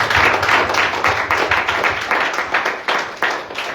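A church congregation at a French-language worship service clapping and cheering in praise, a dense, steady wash of applause with rhythmic claps running throughout.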